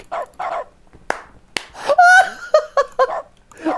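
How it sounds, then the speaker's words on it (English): A dog barks several times in the video game The Stanley Parable Ultra Deluxe, sharp close barks with clicks, mixed with a person's laughter and voice. "anytime I click something that's not interactable, I get to bark"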